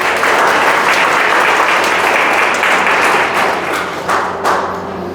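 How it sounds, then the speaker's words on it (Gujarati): An audience applauds loudly and steadily to welcome guests at a gathering, dense clapping from many hands that stays full for several seconds and then fades slightly toward the end. "આપણે સૌ તેમનું તાળીઓથી સ્વાગત કરશું"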